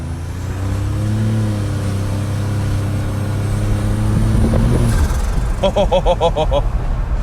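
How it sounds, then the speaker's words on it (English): A turbocharged 1987 Buick Grand National, with the wastegate boost turned down, accelerates under rolling throttle. Its loud, close engine drone climbs steadily, then breaks into a grittier, pulsing roar near the end. "I just rolled into it to let it accelerate, and it feels good."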